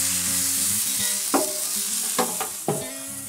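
A tomahawk ribeye steak sears on reversed grill grates on an Oklahoma Joe's Rambler grill, giving a steady loud sizzle with a few brief scraping bursts as it is moved. No one talks.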